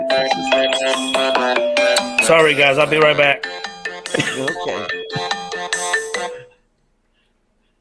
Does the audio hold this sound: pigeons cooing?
no